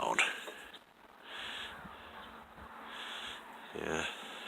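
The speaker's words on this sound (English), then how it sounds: "Sorry about the crows or ravens" Crows or ravens caw loudly outdoors near a smoker and burner, harsh calls repeating over steady background noise.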